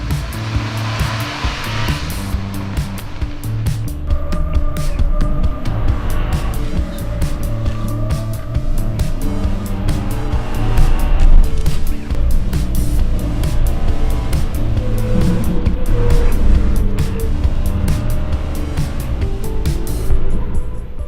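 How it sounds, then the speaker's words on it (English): Ford Raptor pickup truck driving on the Nürburgring racetrack, a steady loud engine drone with shifting harmonics and tire and wind roar running throughout at close range. "how bizarre it is to put a Ford Raptor on the Nürburgring."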